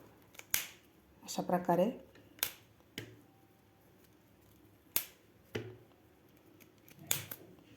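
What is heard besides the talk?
knife cutting fresh cauliflower into thick pieces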